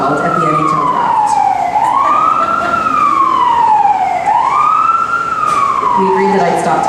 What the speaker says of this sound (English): We agreed that I'd stop talking while ambulances come by.